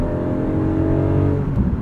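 A 2021 Porsche 718 Cayman GTS 4.0 engine revs hard and close, a loud, steady droning growl that holds throughout with a slight dip near the end.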